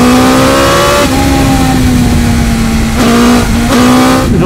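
Loud, close engine roar from a 2021 BMW S1000XR motorcycle as it revs toward 11,000 rpm. The pitch holds high and breaks with brief drops at gear changes. No voices.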